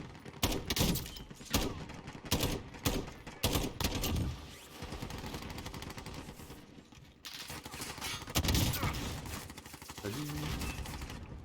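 Rapid bursts of automatic gunfire from a 20-round weapon in the Warzone video game crackle loudly in close, repeated volleys with brief gaps between them, then resume toward the end.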